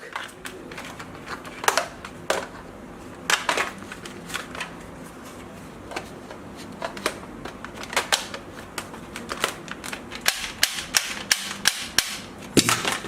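A realistic toy AK47 gun firing, sharp snappy clicks and pops in irregular bursts, some single shots and quicker clusters, close and fairly loud with quiet gaps between.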